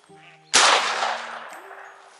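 A single sharp shotgun blast from duck hunting by the sea cracks out loud and close, its blast ringing and decaying over a second or two above a faint low hum.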